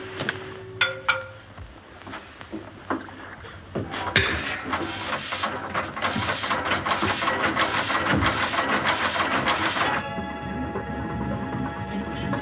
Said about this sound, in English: Stop the engine.